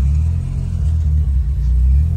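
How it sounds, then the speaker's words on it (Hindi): A car, part of an H23A versus K24 engine comparison, accelerates during a performance test drive in traffic, giving a steady, loud, deep engine rumble close by with no talking. "ट्राई होने लगी गाड़ी की, देखते हैं क्या होता है, बिलावल भाई गाड़ी चला रहे हैं।"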